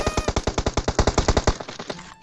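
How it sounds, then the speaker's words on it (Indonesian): Rapid automatic fire from an M762 rifle in the PUBG video game: about fourteen sharp, evenly spaced loud shots over roughly a second and a half, then a short fading tail with no talk. "Boom, headshot."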